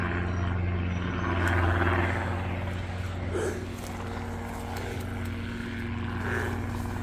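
An aircraft circles overhead in a new outdoor area, likely a helicopter, producing a steady droning engine hum with strong low tones that swells and fades slightly as it passes, heard alone without talk.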